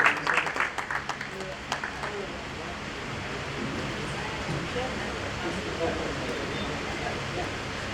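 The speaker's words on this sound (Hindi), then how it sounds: "जोरदार ताली सर के लिए" Classroom applause for a teacher, a short burst of clapping at the start that fades into general room noise and murmuring students.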